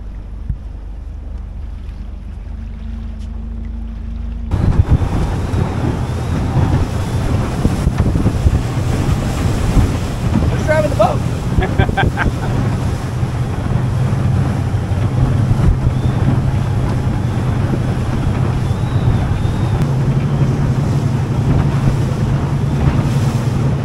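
Steady engine drone with wind buffeting and water wash, loud and continuous throughout, a motorboat running over open water off Key West.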